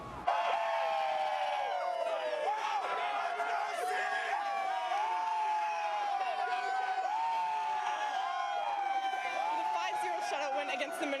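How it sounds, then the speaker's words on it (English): Dense crowd of hockey fans cheering and whooping at a packed outdoor Winnipeg Jets whiteout street party outside the arena after a playoff series win, a loud continuous roar with whistles and shouts throughout. "Thousands of people outside the Bell MTS Center for the biggest whiteout street party we've seen yet"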